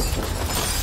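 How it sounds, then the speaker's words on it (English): A hammer strikes and shatters a window pane, giving one short, loud, dense burst of breaking glass that fills the whole moment. "Strike the glass where it's weakest, near one of the bottom corners. It may take several strikes."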